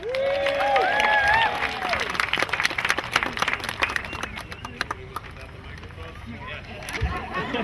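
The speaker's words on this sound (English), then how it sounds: "big round of applause" An outdoor crowd at the Lake Elsinore Launch Point opening ceremony applauds the mayor; cheering voices and whoops lead in, then scattered loud claps continue and fade, with people talking underneath.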